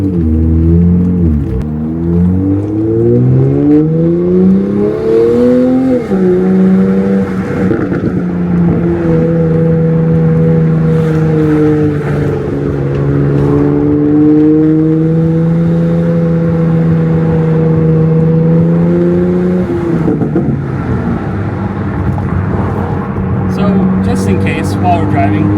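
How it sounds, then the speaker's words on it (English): A lowered Toyota MKV Supra A90 drives along with a loud, steady engine drone inside the cabin. The pitch climbs and dips through gear changes around the sixth and twentieth seconds. "you can watch me drive my way too low Supra"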